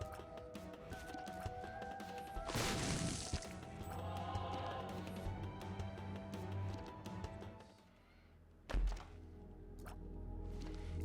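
A bomb goes off in The Binding of Isaac: Afterbirth, a short heavy thump near the ninth second that stands out against quieter game music and scattered in-game impact sounds.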